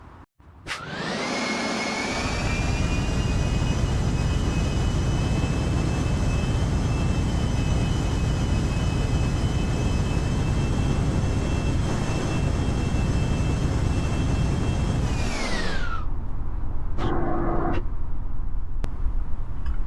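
Aircraft engine in Kerbal Space Program, a loud continuous whining drone that rises in pitch at the start, holds steady for about fifteen seconds, then winds down sharply, followed by a few brief clicks.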